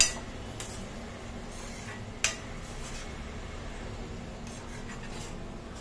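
A spoon stirs lentils with cinnamon in a cooking pot, giving two crisp metallic clinks against the pot, one at the start and one a couple of seconds later, amid faint, quiet scraping.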